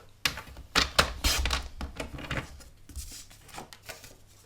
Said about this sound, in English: So again, I'm going to cut this in half and line them up.